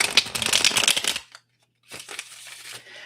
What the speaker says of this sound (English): what I can do is shuffle and pull 3 cards